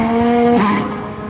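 A Ferrari Formula 1 car runs slowly and hesitantly on the power, its high engine note holding steady, then dropping and shifting pitch as it passes close by, loud and without voices.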